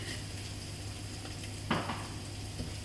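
Vegan eggplant omelette with parsley sizzling steadily in a frying pan, a quiet continuous crackle with a brief scrape of stirring partway through.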